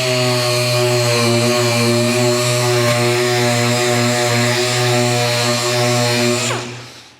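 A power sander does the final sanding of a Strat-style guitar body, its loud, steady motor whine and hum running without talk before spinning down at the end.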